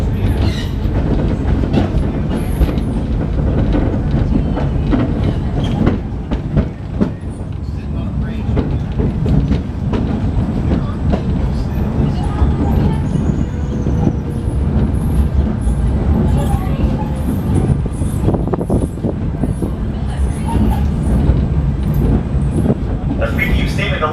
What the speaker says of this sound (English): We'll come up here and ride the small train after we're done here.